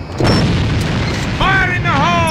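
A grenade explodes in the online shooter A.V.A. as a loud, booming blast that rumbles for about two seconds, with a voice speaking over its tail.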